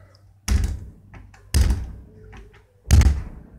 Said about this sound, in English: Don't want to damage the door, but I'm pushing so hard, it ain't going to open.